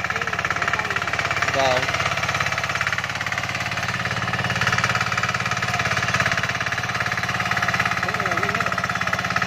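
A Trâu Vàng diesel tiller engine runs steadily and loudly throughout, its continuous chugging drone broken only by brief spoken words.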